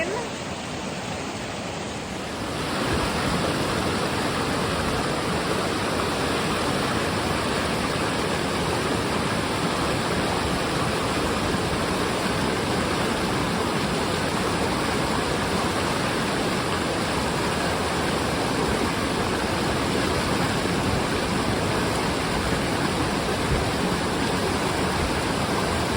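Wild river rushing in a backpacking wilderness, a dense, steady roar of flowing water that swells in after a brief quieter start and holds unbroken and close for the rest.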